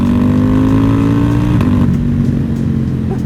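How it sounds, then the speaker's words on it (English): A 2021 Yamaha R1M engine runs loud and close with steady revving, then the throttle eases off and the tone drops away near the end. "I keep flicking the throttle and letting off to bed it in a little bit"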